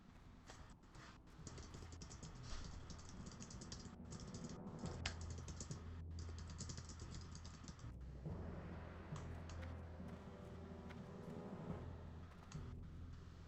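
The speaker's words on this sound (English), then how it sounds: "I'm a slow typer." Steady, fairly close typing on a computer keyboard during a World of Warcraft Classic session on a PvP server, with quick irregular key clicks running throughout over a low background hum of game sound.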